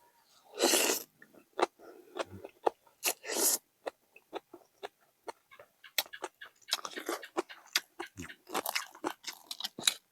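Crunchy chewing of crispy golden fried tilapia eaten with rice noodles, loud close bites and crackling crunches in irregular bursts, no talking.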